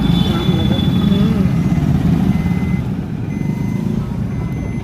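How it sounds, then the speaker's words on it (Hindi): Steady low rumble of road traffic stuck in a jam with trucks, engines droning close by, with a reversing beep and faint talk over the constant roar. "ट्रैफिक जैम में हम लोग फंस चुके हैं"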